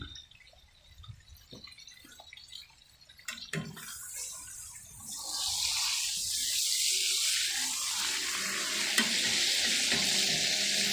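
A tomahawk steak sears with fat cooking off, a quiet start of small stirs and drips giving way after a few seconds to a loud, steady, broadband sizzle that holds to the end.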